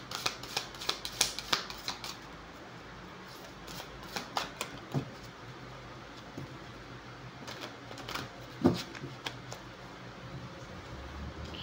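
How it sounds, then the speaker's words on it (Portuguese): Tarot cards being shuffled for a nine-card spread, faint irregular riffling and soft card clicks in short bursts against a quiet room, with no talk. "A gente já embaralhou, mas vai embaralhar mais uma vez e vai colocar um jogo de 9 cartas."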